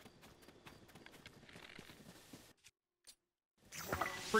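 A horse gallops in the video game Zelda: Tears of the Kingdom, with quick rhythmic hoof clip-clops for a couple of seconds, then a brief near-silent gap and a louder burst at the end.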